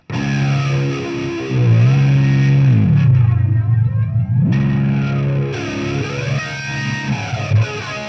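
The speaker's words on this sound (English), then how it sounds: "Ever wonder what a detuner sounds like when you put it back in tune?" A heavily distorted, wavering guitar drone from a detuner pedal warps in pitch, sagging down and sliding back up as it snaps into tune, loud and continuous.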